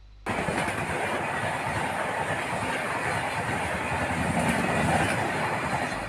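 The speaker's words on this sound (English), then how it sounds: "Coromandel Express leaving the Balasore railway station." The Coromandel Express pulls out of Balasore railway station in a steady, loud roar of rolling stock, with wheels rattling in an even clatter over the rails from start to finish and no voices.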